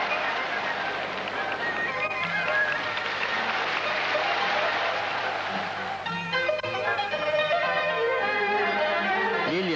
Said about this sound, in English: His performance caused a sensation and met with thunderous applause.